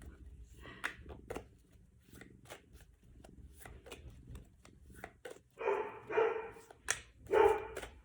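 A neighbor's dog barks in sharp bursts at a moderate distance, with a few louder clustered barks later, over quiet room sounds and light handling noise.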